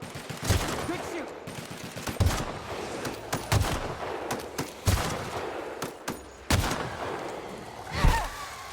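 Rapid bursts of gunfire from The Outer Worlds, sharp repeated shots in clusters of loud cracks with short pauses between, a voice briefly over the shooting.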